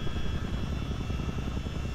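Steady helicopter rotor and engine drone in Microsoft Flight Simulator at a military airbase in Africa, a continuous low throbbing hum with no speech.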